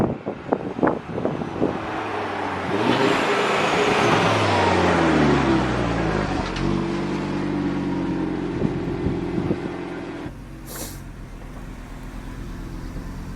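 A converted Audi RS3 three-door, originally a TDI, drives on its first outing, engine rumbling and revving through gear changes with rising tones, then settling to a steady cruise, loud and near, without talk.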